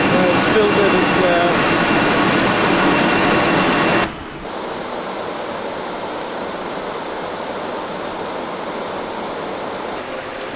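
Gas turbine power generator and its filtered air intake on the Chevron Alba offshore platform, a loud steady broadband roar with a faint high whine that drops abruptly partway through to a quieter continuous hum.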